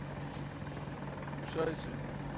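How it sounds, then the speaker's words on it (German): A helicopter approaches in the video game Battlefield 2042, a faint, steady rotor chop with a rising whine near the end, while players talk over it. "Heli kommt."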